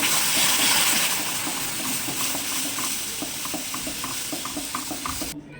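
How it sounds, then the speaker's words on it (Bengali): Tamarind pulp being stirred into a chutney mixture in a pan, a steady wet churning under a hiss, with a regular rhythmic scraping of the spoon growing more distinct toward the end. "এখন আমি তেঁতুলের কাতটা দিয়ে দেবো দিয়ে ভালো করে মিশিয়ে নেব"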